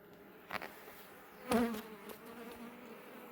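Honeybees buzz around an open hive during an inspection, a soft steady hum with a couple of louder passes as single bees fly close by the microphone.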